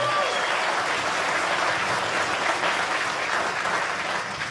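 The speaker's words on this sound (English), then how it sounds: "Round of applause for all the service people." Comedy club audience applauding steadily for service members, a dense, sustained wash of clapping throughout with a few faint voices mixed in.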